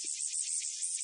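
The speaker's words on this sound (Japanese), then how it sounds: "セミの鳴き声を聞くことができます。" Recorded song of a tsukutsuku-boshi cicada plays as a continuous, shrill, buzzing drone, steady and fairly loud throughout.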